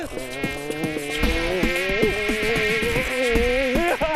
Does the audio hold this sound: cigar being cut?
no